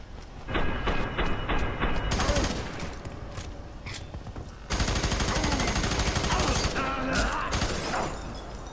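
Automatic gunfire from the shooter game F.E.A.R. 3 rattles in rapid bursts, loud and close, with dense continuous volleys that break off briefly midway before resuming.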